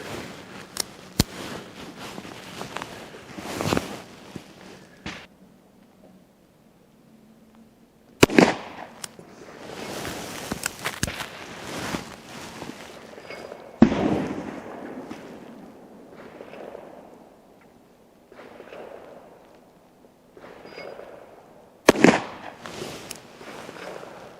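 A Chiappa Rhino revolver is fired from a rest, producing a series of sharp, separate shots spread unevenly over the stretch, each a sudden loud crack with quieter gaps between them.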